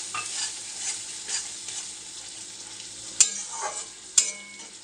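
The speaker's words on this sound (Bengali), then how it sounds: "একটু জল দিয়ে দেব।" Water is poured onto chicken frying in a pan, producing a steady hiss and sizzle with stirring scrapes and two sharp clacks of a utensil against the pan.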